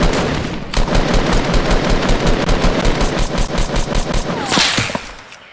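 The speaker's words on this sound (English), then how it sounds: "Oh, we're being sniped from somewhere else." Rapid automatic gunfire in a Fortnite match, loud and close, firing in a steady rattling burst for several seconds before breaking off into a few single shots.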